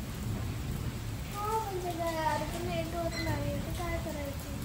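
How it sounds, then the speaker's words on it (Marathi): Steady rain falls outdoors as a soft, continuous hiss in the background while a voice talks over it. "पण हे काय पाऊस थांबत नाही का."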